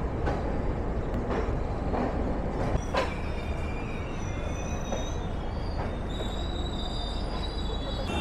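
Jammu Tawi Express rolling into Gaya Junction, wheels grinding and squealing on the rails with repeated clanks and thuds from the carriages, a continuous close rumble.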